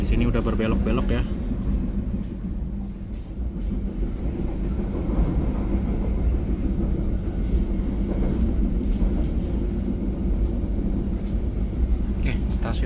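Pangandaran passenger train rolling over winding track, a sustained loud rumble with faint clickety-clack rhythm and occasional brief metallic squeals, close and continuous throughout.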